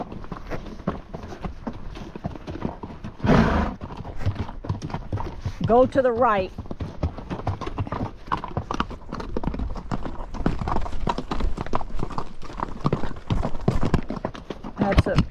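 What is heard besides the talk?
horses walking on trail, hooves clip-clopping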